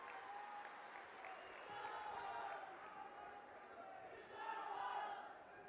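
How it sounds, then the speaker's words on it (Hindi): A rally crowd in Ratlam, Madhya Pradesh applauds to welcome Rahul Gandhi. Sustained clapping swells twice, mixed with cheering voices and some crowd chatter. "एक बार जोरदार तालियों से हम उनका स्वागत करते हैं।"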